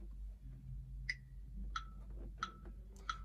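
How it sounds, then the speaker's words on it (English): Four sharp metronome clicks at a steady 90 BPM pulse over a low background hum. "Let's start the metronome on a 90 BPM timing."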